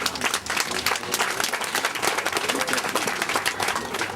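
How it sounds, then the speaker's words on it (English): Audience applause at a regional digital library unveiling in Makeni, a steady spread of clapping with a loud, dense texture that carries on for the full stretch and is not mixed with speech. "just clap for them"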